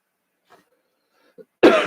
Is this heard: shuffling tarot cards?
no